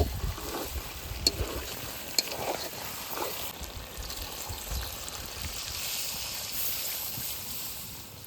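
Potatoes and mutton sizzle and fry in a pan as water is poured in, giving a steady crackling hiss with a few sharp pops and stirring clatters.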